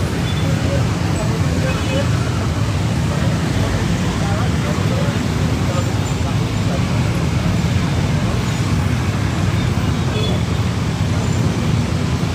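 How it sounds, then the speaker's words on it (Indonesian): Heavily congested road traffic at a flyover in Cimindi, with a dense, steady roar of car, bus and engine noise filling the whole stretch, loud and continuous, with indistinct voices mixed faintly into the din. "arus lalu lintas sangat macet parah"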